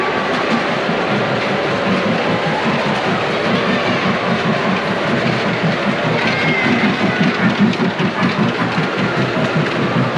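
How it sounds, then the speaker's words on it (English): Ride-on Thomas train carrying children indoors at a scale model train show, with a steady clickety-clack rhythm of wheels over rail joints running loudly and continuously against a busy hall background. "they even took the time to set up a real indoor train, Thomas train, for all the kiddos to ride here"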